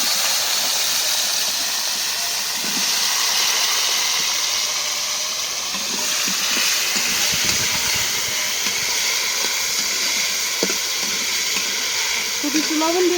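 Eggplant slices frying in hot oil in a home kitchen, salted only, a steady broad hiss and sizzle running throughout with small pops and clinks, close and fairly loud.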